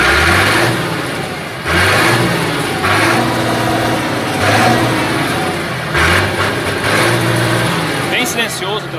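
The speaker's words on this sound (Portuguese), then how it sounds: "Bem silencioso o trator." A Massey Ferguson 630 Hydrotronic tractor engine runs while driving, a loud, steady diesel drone that rises and falls with throttle, under someone talking.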